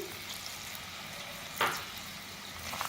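Small onions, about 70 grams, fry in already-hot oil over a medium flame, giving a soft, steady sizzle with one brief louder crackle partway through; no talking.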